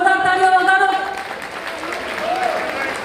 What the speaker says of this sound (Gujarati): જોરદાર તાળીઓ વગાડો